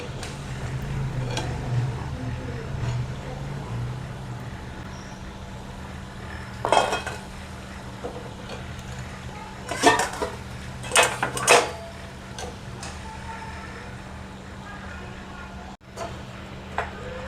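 Fried vadas for dahi vada being lifted from a frying pan, sharp metal clinks and scrapes of a utensil against the pan in scattered bursts over a low background hum.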